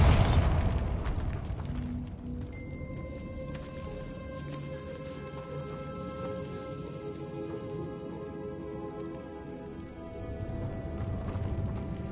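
A Bombarda spell in Hogwarts Legacy goes off as a loud explosive burst right at the start. Rumbling debris and clattering settle for several seconds, with no talk over it.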